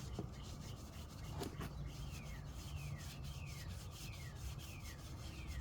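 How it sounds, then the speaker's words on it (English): Hand sanding along a car's door jamb to strip years of silicone protectant residue, a steady close abrasive rubbing with a repeated back-and-forth rhythm and no talking. "now I'm going to sand the jam right here."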